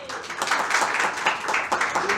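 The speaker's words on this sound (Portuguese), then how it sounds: "Uma salva de palmas para os irmãos." A church congregation claps for fellow members during a Bible study gathering, a steady patter of many hands spread across the room with a voice murmuring faintly underneath.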